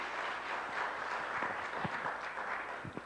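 A debate audience breaks into applause: steady, moderately distant clapping from a crowd, sustained for a few seconds with scattered louder individual claps.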